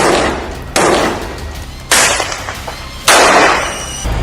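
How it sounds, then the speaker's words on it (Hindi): Three sharp, loud blasts in northern Gaza hit about a second apart, each a sudden broadband burst that trails off into rumbling decay. "तभी एक जोरदार धमाका होता है"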